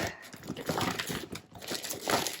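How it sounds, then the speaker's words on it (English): Plastic packaging crinkles and crackles steadily as it is handled during a haul of yarn and books, close to the microphone in continuous dense bursts with brief pauses. "I know, there's crinkling."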